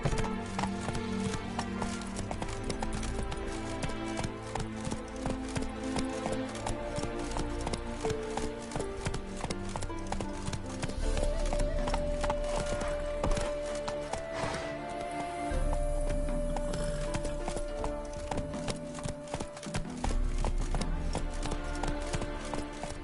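Roach, a horse in The Witcher 3, gallops with steady rhythmic hoof clip-clops over a dense game soundtrack of music and ambience, fairly loud throughout.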